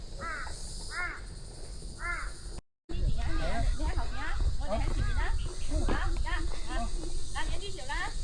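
Crows cawing repeatedly on a Hong Kong hiking trail near Tung Chung, several birds calling in rhythmic bursts, some near and some farther off, with a brief dropout early on and steady outdoor background.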